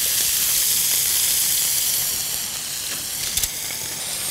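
Lamb tenderloin slices sear in a hot pan, giving a loud, steady sizzle with a bright hiss that eases slightly toward the end, marked by a couple of brief spatters.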